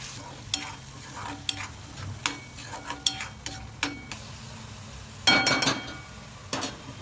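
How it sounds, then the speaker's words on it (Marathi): A masala of tomato, onion, garlic and ginger fries in the pan used for the paneer, sizzling steadily while a spoon stirs and scrapes with repeated clinks, then a louder burst of stirring near the end. "ज्याच्यात पनीर तळलं ना आपण त्याच्यात मसाला टाकायचा आहे"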